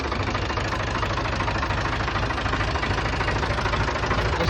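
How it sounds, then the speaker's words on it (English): A Ford tractor's 201-cubic-inch diesel engine idles with a steady, dense, knocking clatter, loud and close, running alone without talk. "This tractor has a Ford 201 diesel in it, 201 cubic inches, makes about 65 horsepower."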